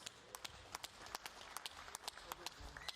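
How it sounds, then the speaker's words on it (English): Scattered applause for both boxers after an eight-round professional bout in an arena with no crowd, a handful of sharp, sparse claps spread across the moment, fairly faint, with a commentator talking underneath. "we put our hands together for both boxers"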